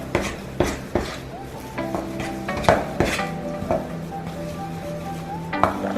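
A utensil clinks and scrapes against a bowl while protein donut batter is mixed, with irregular close knocks and stirring sounds over a quiet kitchen background.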